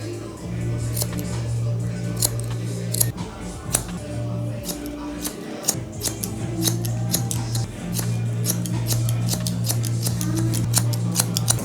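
Barber scissors snip through hair during a modern mullet cut, a rapid, steady run of crisp close clicks over a constant low electrical hum.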